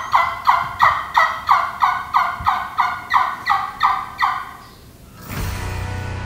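A handmade wing bone turkey call, sucked at the corner of the mouth, imitates a hen turkey with about a dozen evenly spaced, clear yelps. A short rush of broadband noise follows.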